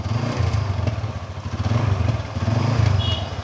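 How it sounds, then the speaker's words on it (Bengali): A used blue second-hand motorcycle idles smoothly nearby, its engine giving an even, rhythmic low putter that swells slightly and eases back, with no speech over it. "এই বাইকটিও আমরা একটু সাউন্ড কন্ডিশন আপনাদেরকে শোনানোর চেষ্টা করতেছি।"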